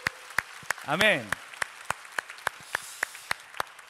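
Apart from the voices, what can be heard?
congregation applause in church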